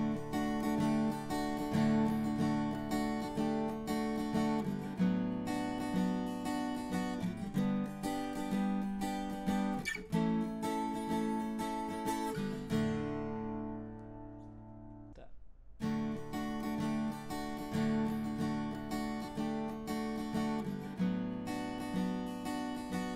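An acoustic guitar recorded in stereo with two microphones, levels balanced between them, plays strummed chords that ring out and repeat steadily, with a brief fading pause midway before the strumming resumes.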